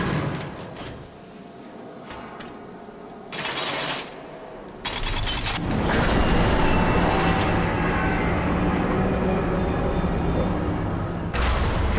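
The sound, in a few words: train moved on rotating platform, from video game Darksiders Warmastered Edition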